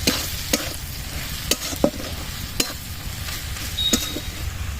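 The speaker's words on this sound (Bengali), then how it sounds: "হলুদ গুঁড়ো পরিমাণ মতো দিয়ে দিচ্ছি, লঙ্কার গুঁড়ো, জিরে গুঁড়ো, দিয়ে নেড়ে নিচ্ছি।" Turmeric, chili and cumin powders stirred into frying fish curry in a pan: a low, steady sizzle with a few distinct spoon knocks and scrapes spaced irregularly, no talking.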